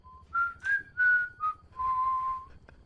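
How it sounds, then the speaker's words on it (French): A person whistles a short tune of several clear sustained notes, moderately loud and close, with a soft low hum underneath and no talking. "c'est qui siffle comme ça là depuis tout à l'heure?"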